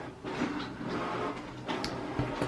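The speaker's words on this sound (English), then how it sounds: "Printer is being really loud right now." An office printer runs loudly nearby, giving a continuous broadband mechanical whir with occasional clicks and clacks of its moving parts, steady throughout with no talking.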